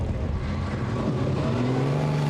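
GN-based vintage racing cars at Goodwood's 75th Members' Meeting, engines roaring steadily and loud near the Woodcote corner, one engine note climbing as it passes, with no voices.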